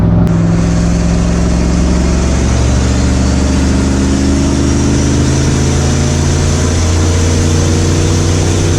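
A turbocharged car cruising on the highway at around 60 in the slow lane: a loud, steady engine drone with constant road and wind noise inside the cabin.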